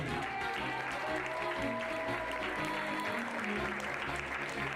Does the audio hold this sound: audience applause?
yes